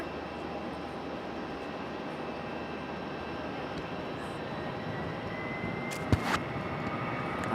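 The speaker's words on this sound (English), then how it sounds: "here goes our 757. Off for departure" A Boeing 757 jet departing from Raleigh-Durham airport gives a steady, moderately distant engine roar that holds throughout, with a brief sharp knock near the end.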